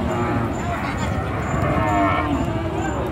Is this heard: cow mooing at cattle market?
yes